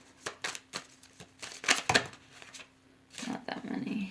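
Tarot cards being shuffled by hand: a string of soft, papery riffles and taps arriving in uneven bursts, fairly close and quiet, with a short spoken phrase near the end.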